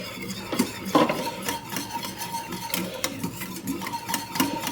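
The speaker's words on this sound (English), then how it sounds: "Give our slurry a little mix." Slurry is stirred into gravy in a pot for a Quebec dish, giving a soft continuous rasping scrape of a utensil against the pot with faint irregular knocks, fairly quiet.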